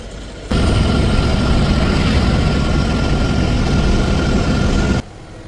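A 12-wheel lorry's heavy diesel engine idles loudly and evenly at a roadside tea stop, a deep rumble that starts abruptly, holds steady and drops away near the end.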